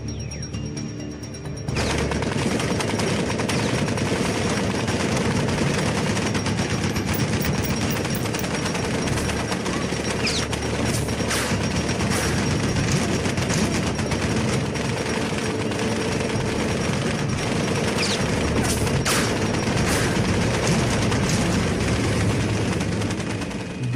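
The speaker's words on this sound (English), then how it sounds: "Jim's men decided to attack the lone sniper with a heavy machine gun" A heavy machine gun fires in a WWII Normandy battle scene, a dense, continuous roar of rapid shots with loud cracks scattered through it that runs unbroken for over twenty seconds.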